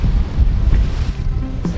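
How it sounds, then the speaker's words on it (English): A sailboat's engine motors into the wind at sea, a steady low rumble blended with loud wind buffeting and wave wash across the short stretch, with no talking. "turn on that noisy mechanical system we call an engine"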